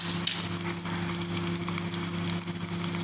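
Onions fry in desi ghee for a dal tadka, a soft, even sizzle and crackle from a pan with a low steady hum underneath, close and continuous without talk.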